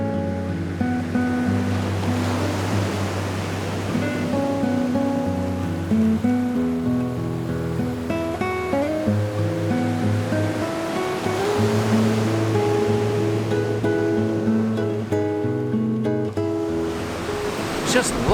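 Ocean surf rolls onto a beach at Wilmington, North Carolina, a continuous wash of breaking waves with wind noise, heard under people talking throughout.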